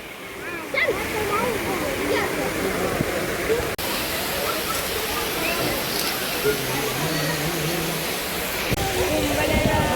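Water pours steadily from the trunk of an elephant statue at a large temple in Surat, a continuous rushing splash heard up close, with people talking over it throughout.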